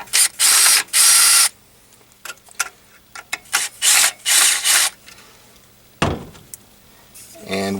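Bolts and washers come off a Yamaha XT250 motorcycle during a rear rack install: bursts of ratcheting wrench clicks alternate with short metallic scrapes and rattles, close and loud, with pauses between turns.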